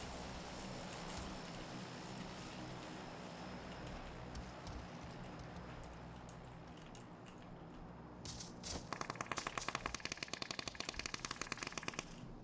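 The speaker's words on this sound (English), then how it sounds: "Guys shooting back there." Gunfire in PUBG sounds over a steady background rumble, faint and distant at first, then a rapid, sharp burst of automatic fire in the final few seconds.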